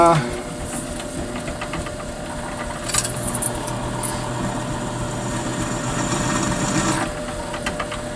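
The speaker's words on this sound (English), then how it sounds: "got you set up over here on the drill press. Gonna pop a little hole in here" Steady mechanical whir of a drill press running continuously, with a brief higher grinding as the bit bites in midway, close and fairly loud.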